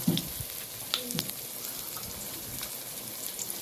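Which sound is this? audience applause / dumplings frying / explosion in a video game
dumplings frying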